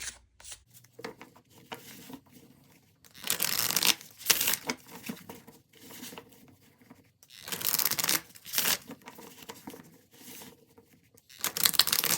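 Repeated bursts of tarot cards being shuffled, crisp riffling and patter in separate bouts with quiet pauses between, close and fairly soft.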